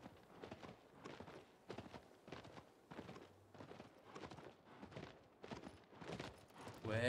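A horse gallops in Shadow of the Colossus, the hoofbeats landing as a steady, rhythmic run of thudding clip-clops that keeps going at a fairly quiet level the whole way.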